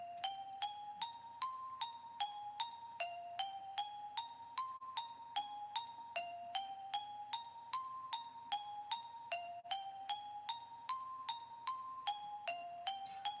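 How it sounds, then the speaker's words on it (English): A bright FL Studio synth bell pluck called Happy Bell plays a simple repeating melody in steady rhythm, clean and close, with no voices. "I got like a pluck here called the Happy Bell"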